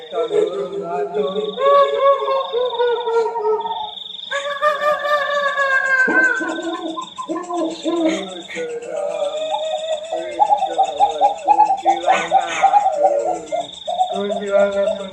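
Owl call ringtone from a set of eerie night ringtones, a looping synthetic bird call with repeated hooting and warbling phrases over a steady tone, loud and alone with no talk.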